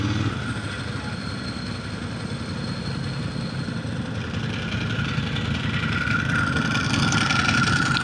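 A Ducati motorcycle engine idling with its characteristic dry clutch rattle, a steady loud close rumble with a metallic clatter running throughout and rising slightly toward the end.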